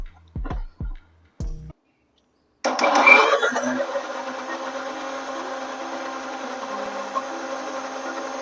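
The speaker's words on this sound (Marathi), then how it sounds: "आणि मिक्सरला लावून घेतो." A kitchen mixer grinder blends masala with a little water for butter chicken gravy. A few knocks and clinks come first, then a short silence, then the motor kicks in loudly and whirs at a steady, sustained pitch.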